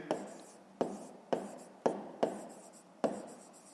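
Pen strokes on paper while working a school maths exercise: six evenly spaced scratchy strokes, each a sharp onset trailing off, close and fairly quiet.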